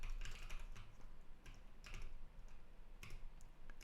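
Rapid typing on a computer keyboard during a live coding session: steady, close clicks and clatters in irregular bursts throughout, with no talking.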